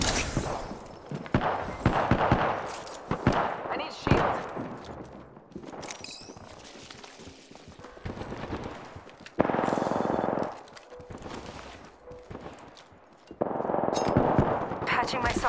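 Apex Legends gunfire: bursts of automatic shots and single cracks come in clusters throughout, loud and close, with some quieter gaps and dense bursts near the end, while a voice talks over parts of it.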